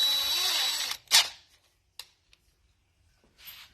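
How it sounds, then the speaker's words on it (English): A power drill whirs loudly for about a second, then stops, followed by a few faint clicks and a brief whine near the end. "put it on the drill"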